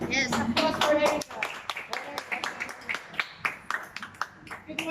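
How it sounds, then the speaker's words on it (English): Audience members at a Toastmasters table topics session clap in a short burst of distinct hand claps, close and uneven, thinning to a few scattered claps amid light talk. "Applause for Erica."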